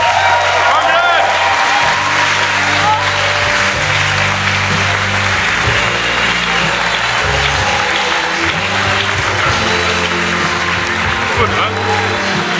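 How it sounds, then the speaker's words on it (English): At a hackathon closing ceremony, a large audience applauds and cheers loudly and continuously, with whoops and voices mixed into the clapping while music with a steady bass line plays underneath. "Let's give them another round of applause."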